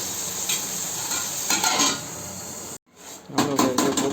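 Ridge gourd curry being stir-fried in a pan: a spatula scrapes and stirs through a soft sizzle, the sound cutting out briefly before louder stirring resumes.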